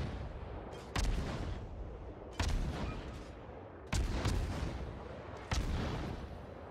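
Warship guns firing in World of Warships, four heavy booming salvos spaced roughly a second and a half apart, each a sharp blast trailing off into a rumbling decay, moderately loud and with no talking.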